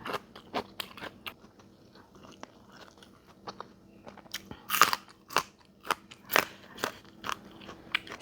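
Close, crisp crunching and biting bursts repeat irregularly as someone eats rice with Thai grilled-fish red chili paste (nam prik ta daeng pla yang), with no talking over the chewing.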